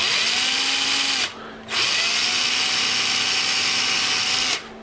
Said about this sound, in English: Now I'm going to drill just drill each of these holes right here in the